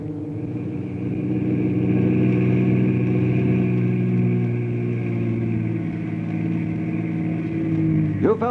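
A car engine in an old radio drama runs steadily at a low, even idle throughout, loud and close, with no talk over it, then briefly revs at the very end.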